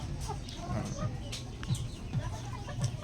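A hen in a small backyard poultry pen clucks in soft, repeated low notes, fairly faint, with a voice talking over much of it.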